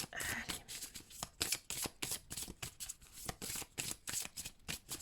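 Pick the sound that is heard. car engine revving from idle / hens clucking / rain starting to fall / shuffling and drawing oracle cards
shuffling and drawing oracle cards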